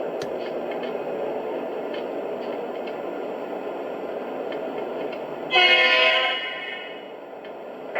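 A Lionel O gauge model train engine runs with a continuous close mechanical rumble, then a short horn blast sounds near the end before the rumble eases.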